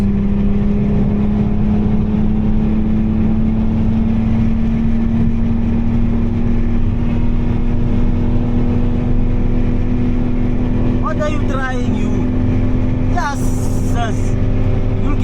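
A BMW E46 drives on a wet road in the rain, its engine giving a loud, steady, close droning hum that rises slightly in pitch, with brief chirping noises near the end.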